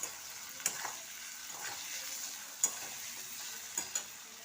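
Chilli, turmeric and coriander powders with salt sauté alongside potatoes in a pan, a faint, soft sizzle broken by several sharp taps and scrapes of a spatula.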